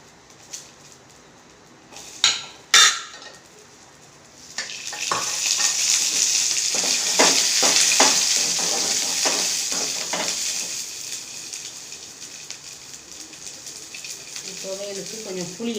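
Garlic and tamarind are stirred in a pan for a thuvaiyal chutney: a few sharp utensil knocks, then a loud, close sizzle with stirring scrapes that slowly fades, and a voice briefly at the end.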